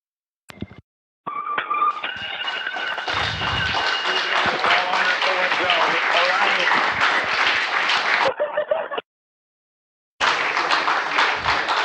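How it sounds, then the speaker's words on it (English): Cheering and clapping ring out in a room as astronauts arrive at the International Space Station aboard Boeing Starliner, sustained applause with voices and taps, interrupted by brief cuts to silence. "Lots of cheering here in the room, big hugs."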